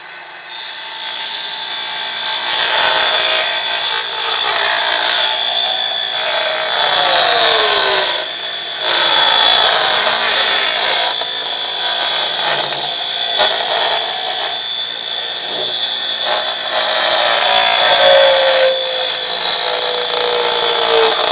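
A miniature table saw ripping thin wood strips for 1:12 scale benches, a high, shrill whine running continuously with brief dips as the blade enters and leaves the cut, close and loud.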